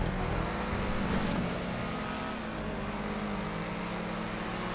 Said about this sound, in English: it's actually a decent enough car to drive